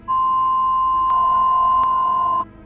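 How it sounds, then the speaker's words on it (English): A TV emergency broadcast signal gives a single loud, steady, squeaky high-pitched tone that drones unbroken for more than two seconds and then cuts off abruptly. "the TV jumps to the emergency broadcast signal, the "This is not a test," with a squeaky beeping sound."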